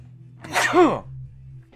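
A single sneeze, close and fairly loud, with a quick drawn-in breath and a falling burst over a faint steady background hum.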